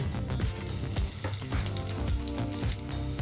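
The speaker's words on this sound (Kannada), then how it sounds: "ಈಗ ಇರೋ ಎಣ್ಣೆಗೆ ನಾನು ಎತ್ಕೊಂಡು ಅದರಲ್ಲಿರೋ ಎಣ್ಣೆಗೆ ನಾನೀಗ ಜೀರಿಗೆ ಹಾಕ್ತಾಯಿದ್ದೀನಿ" Cumin seeds sizzle and crackle in hot oil for a Karnataka-style aachaari aloo, a continuous close frying hiss with scattered pops and light stirring scrapes.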